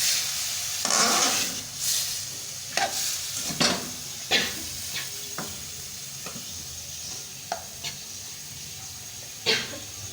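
Potatoes fry in a pan under repeated stirring, soft sizzle broken by sharp scrapes and knocks of a spoon at irregular intervals, close by.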